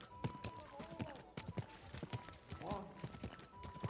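Horse hooves clopping in Kingdom Come Deliverance II, a steady run of sharp clip-clop beats with a brief snort or whinny partway through and faint game ambience around it.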